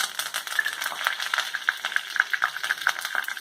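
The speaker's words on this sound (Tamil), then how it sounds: "எண்ணெய் காஞ்சதும் கடுகு, வெந்தயம்," Mustard seeds, fenugreek and curry leaves sizzle in hot oil while being tempered for a Tamil fish curry, giving a close, continuous crackling fry with rapid popping and small stirring clicks.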